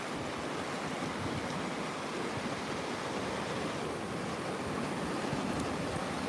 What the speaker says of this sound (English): The warm water rushing against my legs.